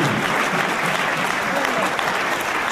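A church congregation at a deliverance service applauds, a dense, steady burst of clapping from many hands, loud and close for a few seconds without pause.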